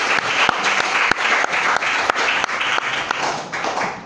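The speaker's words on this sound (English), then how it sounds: "Please, again, another round of applause." An audience applauds the Maxine Brown Dance Group after an energetic dance performance at a recognition service, with steady dense clapping throughout and a few sharper claps standing out.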